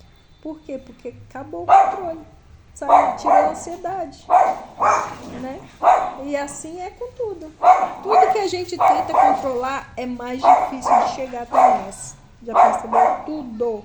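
Several agitated dogs bark repeatedly beside a street, their sharp yaps coming in steady bursts underneath someone speaking continuously in Portuguese.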